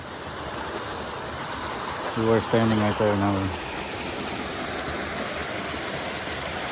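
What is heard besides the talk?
waterfall and stream rushing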